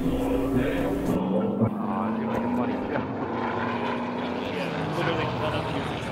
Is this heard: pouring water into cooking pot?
no